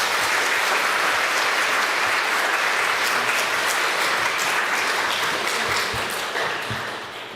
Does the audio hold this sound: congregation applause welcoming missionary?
yes